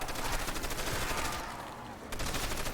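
Browning machine gun in Call of Duty: World at War Zombies fires fast, dense bursts, loud and close, that pause briefly and then resume as continuous rattling.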